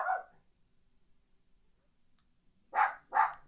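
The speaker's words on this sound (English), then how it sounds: "my dog is just on the barking match today. Like she just keeps barking." A dog barks three times from fairly close by: one sharp bark at the start, a stretch of silence, then two quick barks near the end.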